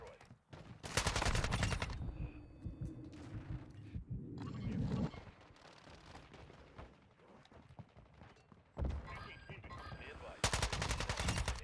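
Automatic fire from the TR-76 Geist assault rifle in a first-person shooter video game, with rapid, loud bursts of gunshots separated by quieter gaps and brief talk in between.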